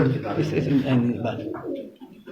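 A Teddy breed pigeon, number 16 from someone's loft, coos softly in low murmuring pulses, close by, mixed with people talking.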